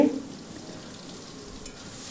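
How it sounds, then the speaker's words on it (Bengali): Chopped onions sizzle and fry in hot oil with bay leaf and black cumin seeds while being stirred, a steady close hiss for a Bengali boal fish curry with mustard and poppy seed paste. "আর কিছু কুচনো পেঁয়াজ দিয়ে দিলাম। এবার ভালো করে নেড়ে"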